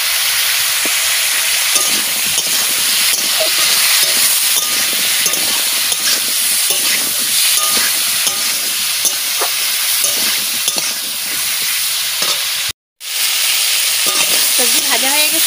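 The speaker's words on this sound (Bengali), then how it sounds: "সবজি ভাজা হয়ে গেছে" Carrot, cauliflower and potato pieces frying in a pan and being stirred, a steady close sizzle with scraping stir strokes throughout and one short silent break near the end.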